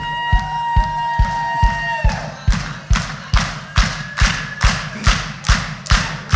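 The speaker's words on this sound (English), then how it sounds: "We're going to ask you to clap your hands along with us." A concert audience claps in time with a band at an album launch, loud, evenly spaced claps about twice per second. Sustained musical tones ring under the first couple of seconds, then the rhythmic clapping carries on alone with faint crowd noise.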